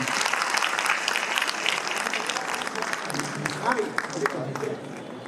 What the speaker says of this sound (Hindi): अगर अभी तक आपके मन तक पहुंचे हो तो एक बार जरा मन भर के तालियां बजाइए